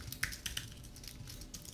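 Soft, quick keystrokes on a computer keyboard as a command is typed, a short irregular burst of faint clicks and taps recorded close by.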